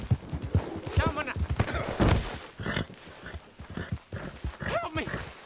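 A horse gallops in Red Dead Redemption 2 with a steady clip-clop of hooves at mid distance. Other game sounds and voices run over the hoofbeats.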